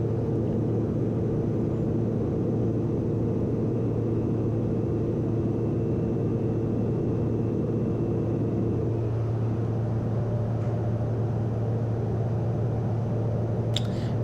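Steady, droning engine hum fills the space with constant low tonal bands and no variation, recorded inside the cockpit of a Pilatus PC-12 turboprop plane in flight.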